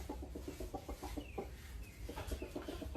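Chickens cluck in quick, repeated bursts nearby, a busy run of short calls over a faint steady background hum.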